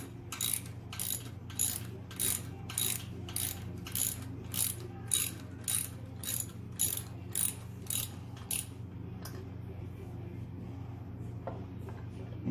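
A ratchet with a deep socket clicks steadily as it loosens air cleaner bolts on a Harley-Davidson Softail 114, giving a regular run of close mechanical bursts over a low hum before it stops and goes quiet.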